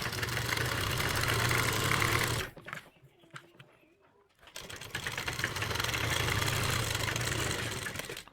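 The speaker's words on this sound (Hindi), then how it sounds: "तो ये हम आसन के ऊपर सिलाई लगा रहे हैं एक पैर की।" A sewing machine stitching the leg seam of an umbrella plazo, a close, steady motor hum and needle chatter that stops for about two seconds and then runs on again.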